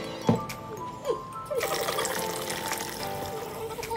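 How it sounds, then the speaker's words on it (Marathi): After a couple of light knocks, water pours steadily into a container of washed rice for dosa batter, a close splashing rush that lasts to the end. "तांदूळ आणि उडदाची डाळ स्वच्छ पाण्याने धुवून घेतल्यानंतर आपण त्यामध्ये 2 ग्लास पाणी टाकून घ्यायचं"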